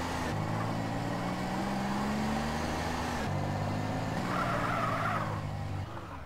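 A car drives past in GTA San Andreas, a steady engine drone with shifting pitch and tire skidding, loud and continuous across the whole stretch.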